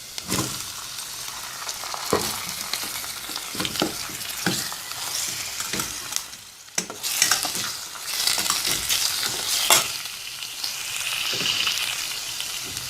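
Chicken pieces frying with onion rice in a pan, a steady close sizzle broken by repeated scraping stirs of a utensil, louder bursts as the food is turned, no voices.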